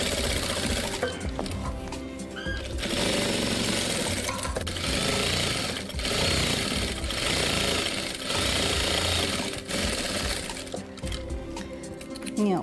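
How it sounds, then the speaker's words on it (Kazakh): A sewing machine stitches a patchwork quilt along a marked line. It gives a steady, close mechanical whir that runs almost without break, with brief dips and faint clinking. "осылай сызықтың бойымен тігіп шығамыз"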